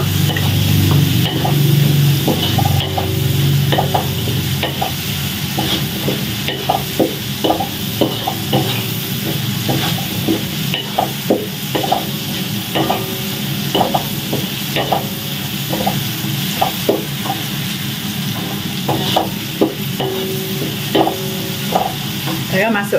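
Sambal goreng with petai is stirred and fried in a pan: repeated scraping spatula strokes knock over a steady, close sizzle, with no voices.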